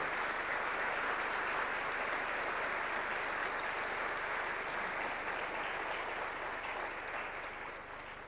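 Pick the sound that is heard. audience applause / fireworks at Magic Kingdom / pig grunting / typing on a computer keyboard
audience applause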